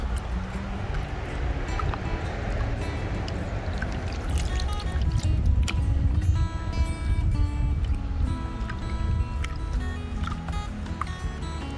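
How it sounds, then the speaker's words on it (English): A gold pan washes purchased paydirt in water, stratifying and rinsing off the blonde sands down toward the black sands: continuous sloshing and swirling water with scattered drips and splashes, close and moderately loud. "So we're just going to keep on stratifying and panning, taking these blonde sands off."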